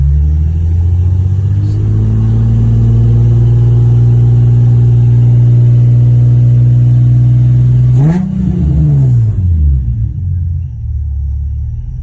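Car engine fitted with NGK Ruthenium spark plugs, heard from inside while driving: a loud, steady droning hum holding one pitch for about eight seconds, then dropping sharply as the throttle closes and settling into a lower rumble.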